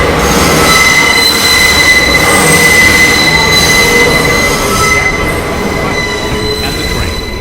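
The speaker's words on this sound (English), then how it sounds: "is a downtown express train approaching the station." An R142A 4 express subway train pulls into Union Square station in New York, with loud, sustained high-pitched wheel squeal and rumbling wheels that ease slightly as it slows, no talking.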